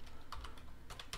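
Rapid keystrokes on a computer keyboard, a handful of crisp clicks in quick, uneven bursts, close and clear with no voices.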